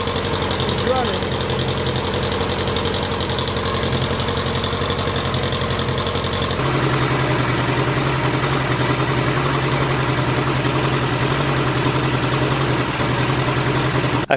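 A smoky 1000cc engine runs steadily and loudly for the whole stretch, a continuous rough idle with a knocking, vibrating drone that shifts slightly in tone midway.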